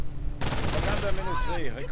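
Sniper shots and machine gun fire in the Company of Heroes video game, a dense loud fusillade under continuous talking.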